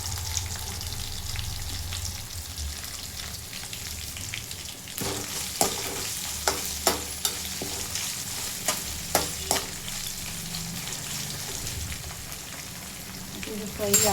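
Ginger added to a cumin-and-cashew tempering frying in a pan for avalakki pongal, making a continuous close sizzle with a run of sharp spatula taps and stirring clicks in the middle and a brief voice near the end.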